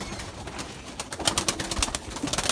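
Pigeons or doves cooing outdoors, several soft repeated coos and calls from nearby birds, with faint flutters and background noise.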